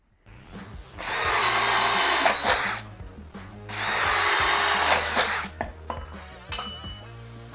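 A Flex cordless drill drives a 1-inch spade bit through wood in two loud, sustained grinding bursts separated by a pause, then ends with a few short clicks and rattles, close up with no talk.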